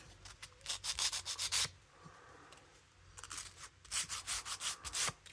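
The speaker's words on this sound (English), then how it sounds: "Love taking burrs off." Sandpaper rubs burrs off a small part of a wooden Big Ben model kit in quick, close bursts of rhythmic scraping strokes, with a brief pause between two runs.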